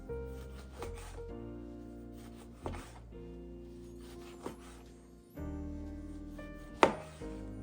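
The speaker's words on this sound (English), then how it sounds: "we cut both ends off, cut them in half. And then cut them into thin slices." A knife cuts oranges into thin slices on a board, giving several separate thuds at uneven gaps, each ringing briefly, close and fairly clear with no talk over them.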